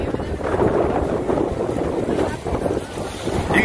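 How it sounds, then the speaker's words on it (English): Strong wind buffets the microphone on the coast of Cozumel, a loud, continuous rushing roar with gusty swells throughout. "You can hear that wind is, it's ripping right now."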